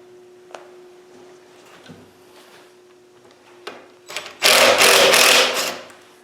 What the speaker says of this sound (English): The impact driver is an invaluable tool on Land Rovers because, like I say, it gives it that shock.